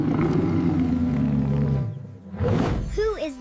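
A lion gives a deep, loud, rumbling roar close by that fades out, followed by a brief higher-pitched animal call.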